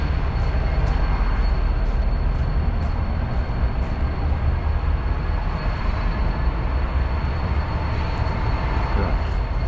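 Trains roll over a railway in Calgary on an icy winter day, a continuous low, heavy rumble that holds steady at close range with no break.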